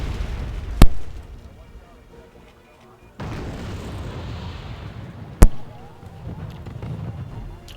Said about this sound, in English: we do have mortars firing in now